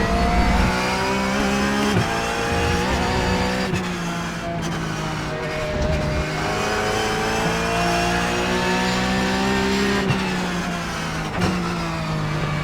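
Mangled Porsche GT3 Cup car racing in iRacing, its engine note loud and steady, climbing through revs and dropping sharply at several gear changes, with brief tire noise and no talk.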